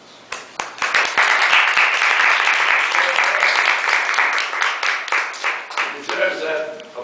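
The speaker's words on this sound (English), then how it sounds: "Deserves that applause" An audience applauds after a Toastmasters speech. The clapping is loud and steady, rising quickly and holding for about five seconds before thinning into scattered claps.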